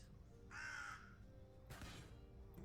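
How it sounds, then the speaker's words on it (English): Two crows caw in the distance, one faint harsh call followed by a second burst a moment later, quiet and outdoors with no one speaking. "There's a crow around. Crows. Two of them."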